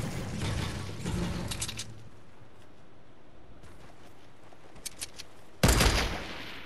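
Gunfire in the video game Fortnite crackles in quick bursts near the start, fades to a soft background hiss, then returns with a louder burst near the end.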